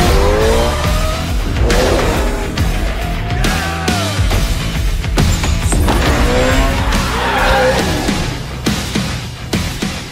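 Toyota GR86 sports car driving hard with tire squeal, engine roar and screeching tires filling the whole stretch, loud and close, mixed with music-like tones and no talk.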